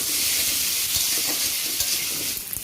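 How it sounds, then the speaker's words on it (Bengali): Soaked chickpeas fry in hot oil in a pan with a steady, close, broadband sizzle, broken by a few soft scrapes and taps from a spoon, with no voices. "দু তিন ঘন্টা আগে আমি ভিজিয়ে দিয়েছিলাম ছোলাগুলো এই সাথে দিয়ে ভেজে নেব"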